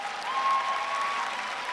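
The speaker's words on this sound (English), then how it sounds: "So, big applause, ladies and gentlemen." Audience applause at a comic con panel in Dortmund, Germany: a brief, even wash of crowd clapping in a large hall, steady and moderately loud throughout, with a faint tone running beneath it.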